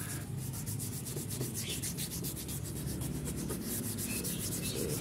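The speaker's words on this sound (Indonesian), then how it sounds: "Kita amplas terus sampai halus" Sandpaper rubs steadily against an ABS plastic body panel of a 2003 Yamaha Mio motorcycle, a continuous close scratchy hiss with faint repeated strokes and no talk.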